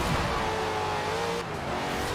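A big HSV GTS V8 race car in Forza Horizon 4 roars steadily on a tight track, its engine note rising and holding under load with a brief dip near the end, loud and close.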